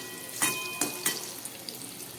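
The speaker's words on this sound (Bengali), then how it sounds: "সব ঘুরিয়ে ফিরিয়ে খুব ভালোভাবে দু পিঠ ভেজে নিতে হবে।" Chana dal dhoka cakes frying in hot oil and being flipped with a knife, giving a soft, faint sizzle broken by three quick scraping knocks early on.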